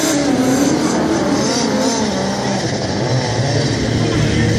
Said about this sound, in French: Mais là, ils mettent des grands gaz quand même.